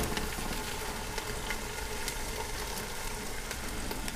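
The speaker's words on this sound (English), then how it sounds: "Hear that sizzle?" Turkey breast browns in an Aicok pressure cooker, giving a steady, dense sizzle that holds at an even level throughout without a break.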